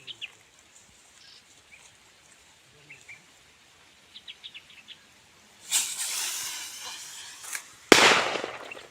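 In a Tamil village, after faint bird chirps, firecrackers burst in a crackling rush, followed by a second sharp, loud bang with crackling that trails off.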